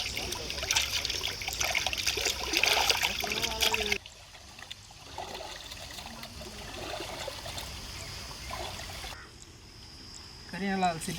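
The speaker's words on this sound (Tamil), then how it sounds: "காடையை தண்ணியில் போட்டு மஞ்சள் போட்டு நல்லா கழுவி எடுத்துக்கலாம்." Quail meat being washed by hand in a vessel of water with turmeric in a village kitchen, steady sloshing and trickling close by, with occasional splashes.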